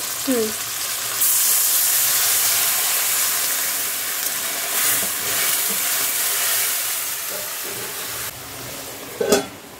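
Water poured into a hot pan of hilsa fish curry with brinjal, setting off a loud, steady hiss and sizzle that carries on for several seconds before a brief clink near the end.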